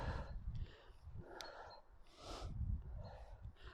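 Strong, breathy exhalations from a person exercising during a Nordic walking workout, several forceful puffs of breath at irregular intervals, close and fairly quiet, with no talk.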